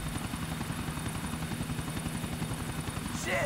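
Helicopter in the game GTA IV, a steady loud rotor chop and engine drone running throughout, with a brief higher noise near the end.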